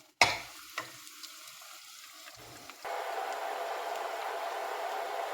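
Onions drop into hot oil for an Iraqi turnip stew, opening with a sharp splash and sizzle that settles briefly, then rises again into a steady, close frying hiss for the remaining seconds.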